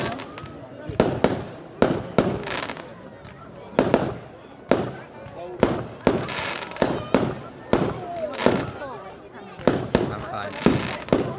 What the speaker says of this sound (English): Is that where it comes from, the firework display?